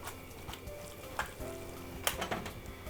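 Onions go back into a hot pan for an arrabbiata tomato pasta and sizzle quietly, with light stirring and a few clinks of a utensil against the pan.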